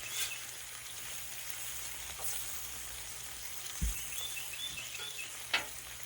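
Alligator meat sizzles on a Blackstone griddle with a constant, even crackle, broken by a couple of soft knocks and scrapes. No one speaks.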